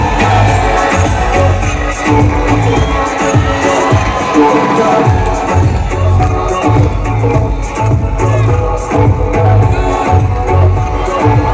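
At a college freshers party, a crowd cheers and shouts loudly and continuously, with excited voices and whoops blending into a dense roar over a pulsing party beat.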